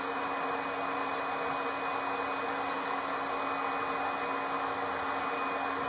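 Pak Kopi power coffee roaster running steadily, a loud, constant whirring drone with a fixed hum, holding even from start to finish with no voices.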